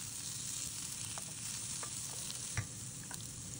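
Onions and green pepper fry in a pan with a steady sizzle. Now and then a utensil stirs and scrapes, with one sharper clatter near the end.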